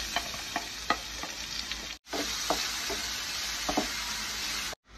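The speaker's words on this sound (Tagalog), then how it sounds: "Sa same pan kung saan natin niluto yung ating beef, sautein na natin yung onion at garlic" Onion and garlic sautéing in the same pan that just seared beef, a steady close sizzle with light scrapes and clinks of stirring throughout, briefly cut off twice.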